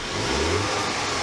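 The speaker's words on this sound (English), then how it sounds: "The 2-litre petrol is a little bit loud." A 2018 Jaguar F-Pace 2-litre petrol engine revs briefly, a steady mid-pitched, somewhat tinny drone that is close and loud.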